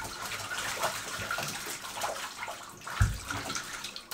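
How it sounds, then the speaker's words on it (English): Running water splashes and gushes steadily as fabric covers from a baby car seat are rinsed without soap in a tub, with a brief louder slosh near the end. "The first part is done without soap. This is to first rinse the materials a little bit and remove most of the dust."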